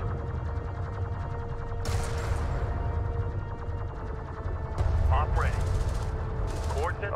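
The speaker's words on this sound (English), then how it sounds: "Armor vehicle taking effective fire." Bursts of gunfire and turret fire crackle through a battle in the strategy game Homeworld: Deserts of Kharak, with rapid volleys and clanking mechanisms over a rumbling background. Synthetic radio voices of units report in.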